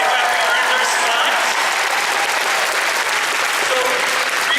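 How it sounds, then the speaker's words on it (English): Sustained applause from a convention panel audience fills the room, a steady dense wash of clapping with some crowd noise mixed in, loud and continuous throughout. "let's give them a round of applause, guys."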